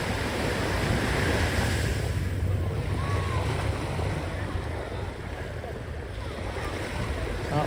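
Ocean waves at Kata Beach in Phuket, Thailand, a steady rushing surf roar mixed with wind buffeting the microphone, continuous and fairly loud.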